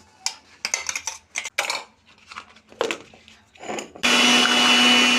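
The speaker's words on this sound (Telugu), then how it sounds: "ఇలా గ్రైండ్ చేసుకుంటే సరిపోద్ది కొబ్బరి చట్నీకి పర్ఫెక్ట్గా గ్రైండ్ అయింది" Clinks and clatter of a mixer jar and utensils come first, then a large mixer-grinder jar loaded with coconut for chutney starts up with a loud, steady motor whine.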